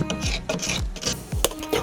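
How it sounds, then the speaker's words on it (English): Old paint being scraped off a surface by a handyman, heard as repeated short rasping strokes, about six in under two seconds, close and fairly loud with no talk. "The first step was to scrape off as much old paint as possible."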